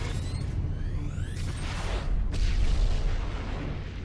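Deep rumbling explosion from the TV series The 100, a sustained heavy boom with whooshing debris, loud and filling the scene without speech.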